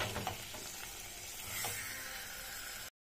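Fish pieces fry in a pan of hot oil for Andhra-style tamarind fish curry, giving a steady, dense sizzle with a few soft scrapes as they are turned, close by and fairly quiet, with no talking.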